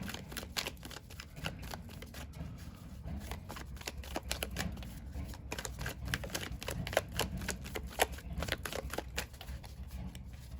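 Tarot cards are shuffled by hand in a continuous run of soft, papery riffles and flicks, close and steady throughout with no talk over them.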